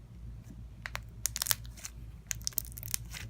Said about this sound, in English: look at this crunch noise.